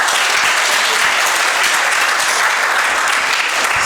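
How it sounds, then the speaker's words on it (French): Loud, sustained clapping from a school audience after a high-school debate contest between two lycées, a thick continuous wash of hands close by. "Donc vos applaudissements pour les deux équipes."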